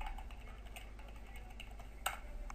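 Someone types on a computer keyboard in a Unity scene-management session. Light, rapid key clicks sit over a low steady hum, with one sharper tap near the end, quiet and without talk.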